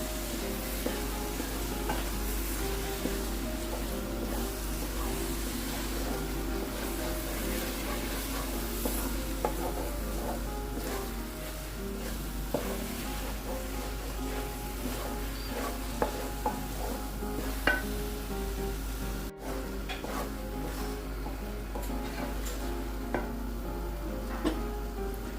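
Grated carrot halwa with coconut, pistachios and almonds is stirred in a pan, a soft ongoing sizzle broken by repeated scraping and knocking of the spoon against the pan, with a low steady hum underneath and no talking.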